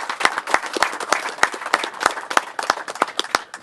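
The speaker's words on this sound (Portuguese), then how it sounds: "Me quero pedir um forte aplauso para Benny." A crowd at a public event applauds a government minister with steady, dense clapping that stays close and even throughout, with no one speaking over it.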